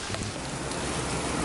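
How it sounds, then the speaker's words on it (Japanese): Steady rain falls on a hiking trail on Hong Kong Island between Stanley and Tai Tam Reservoir, a dense, even hiss of drops hitting leaves and ground, close and continuous with no voices. "また雨です。"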